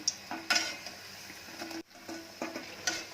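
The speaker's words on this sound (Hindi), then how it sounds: "कड़छी से लगातार पलटी करते रहेंगे।" Pakoras frying in a pan for a Navratri fast recipe, flipped over and over with a ladle: soft, steady sizzle under repeated metal scrapes and clinks at moderate level.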